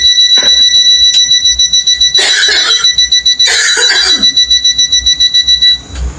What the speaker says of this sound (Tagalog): Ayun ko alam bakit naka-alarm ang hotel.